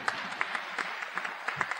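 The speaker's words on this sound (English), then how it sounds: "And go ahead, you can applaud that." Audience applause at a Stuyvesant Town - Peter Cooper Village community gathering, a brief spell of scattered claps heard faint and distant, light and uneven.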